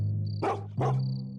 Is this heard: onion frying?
no